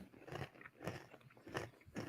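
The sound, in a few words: chewing pretzels into the microphone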